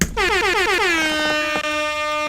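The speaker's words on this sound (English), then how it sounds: "Let's give you all an air horn." A loud air horn blares in one long continuous blast, dipping briefly in pitch at the start, then holding a bright, brassy tone.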